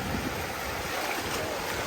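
Sea waves wash onto a beach at Colakli on the Turkish Riviera, a constant, close rushing surf noise with wind buffeting the microphone and no voices.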